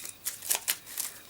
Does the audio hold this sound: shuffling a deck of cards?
yes